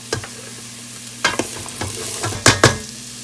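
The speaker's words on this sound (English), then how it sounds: "I have about a tablespoon of oil in there, and we're going to saute a whole onion." Onion sautés in a spoonful of oil inside a rice cooker, a low sizzle under a steady hum, broken by several sharp stirring scrapes and clacks of a utensil.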